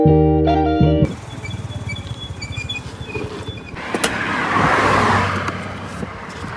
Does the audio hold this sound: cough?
no